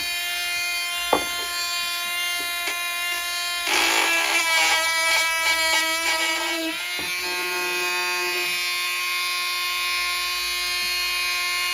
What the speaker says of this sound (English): I'm going to take the Dremel and the little drum to the corners that I haven't managed to get into